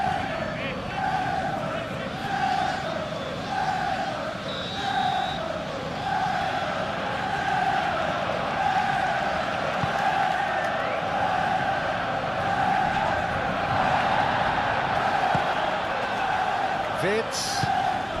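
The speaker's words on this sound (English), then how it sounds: "You can hear the annoyance in the crowd." A stadium crowd in the PES 21 football video game, during a Liverpool vs Brighton FA Cup match, murmurs and groans in frustration: a steady, dense wash of massed voices with rising and falling swells, under continuous commentary talk.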